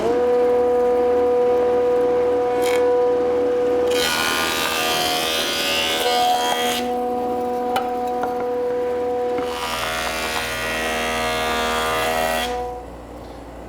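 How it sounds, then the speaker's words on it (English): A jointer flattens one face of a wooden board, its steady motor hum broken by two long, loud bursts of cutterhead chatter as the board is fed across. The sound is close, with no talk. "The next step is to join one side flat on the jointer."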